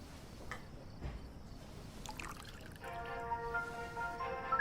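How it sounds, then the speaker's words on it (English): Sake poured in a video game, a soft liquid trickle under faint background game sounds, joined partway through by a steady sustained musical tone. "She's pouring sake?"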